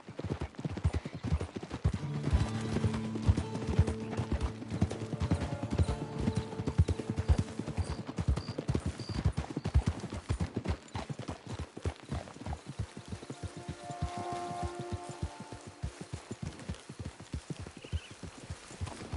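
Horse hooves clip-clop in a steady, continuous rhythm in the video game Red Dead Redemption 2, close and even throughout, with a few neighs from the horse mixed in.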